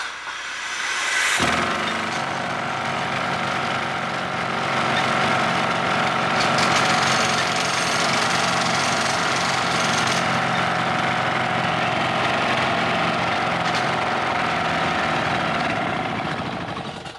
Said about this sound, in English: let's fire up this pneumatic drill and see how loud it is